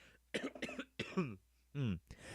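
A man coughs repeatedly in a short burst, several sharp, close, raspy coughs separated by brief pauses, ending with a throat-clearing cough, alone without talk.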